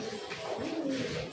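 Pigeons in a pigeon loft give low, steady cooing that runs through the whole short moment at moderate loudness, with no talk over it.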